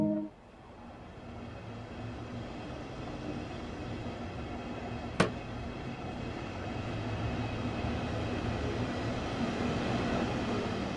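Rail rumble in Train Sim World 2 on the Dresden route as a train begins pulling away, a steady low drone slowly building in level, with one sharp click partway through.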